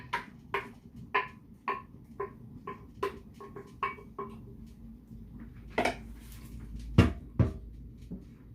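Onions and pepper are stirred together in a pot for Nigerian cotton seed soup, a spoon knocking against the pot in a steady series of clanks, then a few louder scrapes and bangs.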